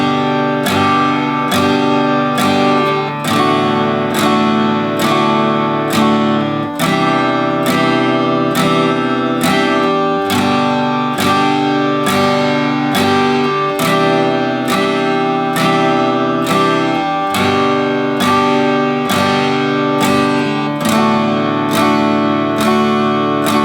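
Acoustic guitar strums chords through a full verse of a song in a particular arrangement, with a steady, loud, evenly spaced rhythm and regular chord changes played solo.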